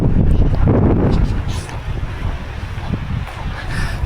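Cold wind at Lake Kawaguchiko buffets the microphone with loud, low rumbling gusts, strongest at the start and then easing into a steadier rush.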